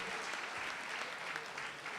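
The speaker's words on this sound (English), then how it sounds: "Round of applause again." Applause from the audience at a high school senior awards and scholarships ceremony, a continuous even wash of many hands clapping, fairly soft and distant, with no voices over it.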